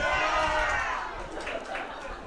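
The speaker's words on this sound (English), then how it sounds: "The crowd really coming alive here as they urge Port Moody on" Stadium crowd at a men's amateur soccer cup final roaring and cheering loudly, a dense sustained swell of many voices that fades slightly before rising in brief surges.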